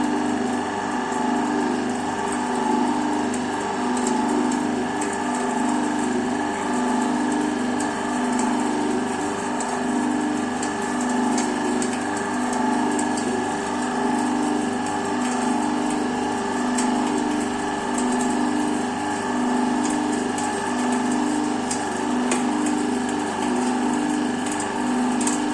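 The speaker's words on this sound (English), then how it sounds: "the load is being applied through the machine. See, the load is gradually increasing." A testing machine presses a plunger into a mold under gradually increasing compression load, giving a steady, continuous mechanical hum and whir with no pauses, close and fairly loud throughout.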